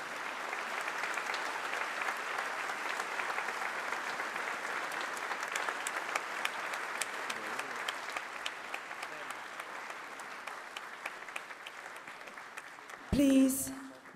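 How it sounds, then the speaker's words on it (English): Sustained audience applause greets a dignitary arriving at a large business summit hall, a long, even roar of clapping hands, with a loud thump and brief rustle near the end as it fades. "Let us extend a round of applause, ladies and gentlemen, to welcome His Excellency to the venue."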